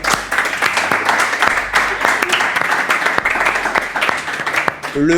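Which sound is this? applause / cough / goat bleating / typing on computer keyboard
applause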